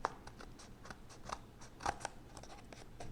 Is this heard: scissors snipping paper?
yes